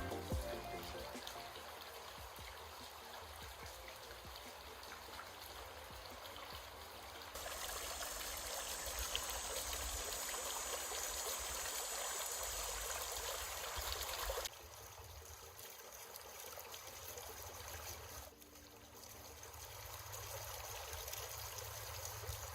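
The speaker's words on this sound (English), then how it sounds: "it really has a nice whitewater effect" An entryway fountain spills water over rock in a whitewater cascade, a continuous close trickling and splashing that shifts in intensity between stretches, with no voices.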